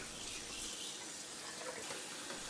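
Cold tap water running into a sink while a whole duck is rinsed, a steady hiss of flowing water with slight splashing changes, close and unbroken.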